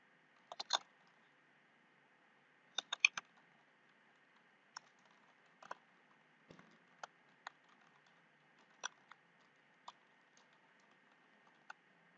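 An email address is typed on a computer keyboard in short bursts of light, close key clicks separated by pauses, heard over a quiet steady hum.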